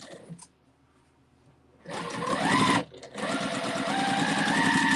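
A sewing machine runs in two bursts of fast, whirring stitching as strips of Christmas fabric are sewn together, separated by a brief pause after a quiet start with a faint handling sound.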